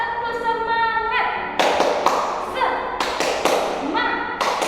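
A class does a rhythmic clapping chant, sharp hand claps in short bursts alternating with a teacher's sung call, close and lively.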